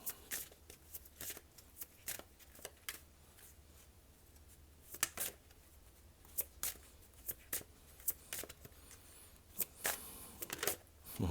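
Tarot cards being shuffled and drawn during a reading: sharp papery snaps and slaps recur irregularly across the stretch, close and fairly crisp, with quiet handling rustle between them and no talking.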